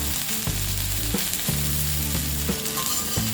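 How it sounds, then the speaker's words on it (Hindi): Raw banana pieces fry in oil over a low flame, giving a steady close sizzle broken by several light stirring knocks and scrapes at regular intervals, with no talking. "अब हम फ्लेम कम कर देंगे और इसे लो फ्लेम में 2 मिनट तक फ्राई करेंगे"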